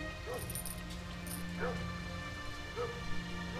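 Dogs yip and whimper in the Robin Hood: Legend of Sherwood video game, a few short faint calls spread over a steady game soundtrack with background hum.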